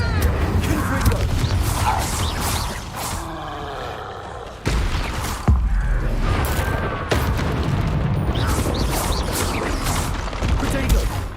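Fiery Confringo spell blasts from the Hogwarts Legacy game fire in a loud, dense barrage of booms and crackling bursts, with sharp impacts near 4.7 and 5.5 seconds, layered over game music and effects.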